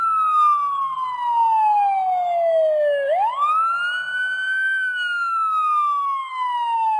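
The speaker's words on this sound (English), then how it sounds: "In the distance they heard a siren." A wailing emergency siren sweeps slowly down and up in pitch, sustained and clear over several seconds as an audiobook sound effect.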